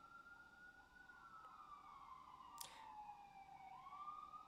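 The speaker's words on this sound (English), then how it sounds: "And here comes the ambulance." An ambulance siren wails in a sweeping rise and fall, passing at moderate distance over steady low traffic rumble, with a brief sharp burst of noise midway.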